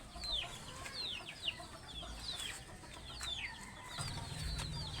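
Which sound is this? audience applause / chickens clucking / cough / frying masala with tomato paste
chickens clucking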